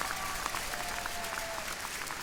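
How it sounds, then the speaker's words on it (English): Graduates' audience at an undergraduate commencement ceremony claps in a broad, steady ovation, distant and reverberant across a large hall. "Let's give them another round of applause."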